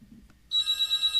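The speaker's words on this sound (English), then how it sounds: "This phone has been ringing off the hook." A telephone bell suddenly starts ringing after a brief quiet moment, a bright, rapidly pulsing electronic trill that stays loud and steady to the end, with no voices.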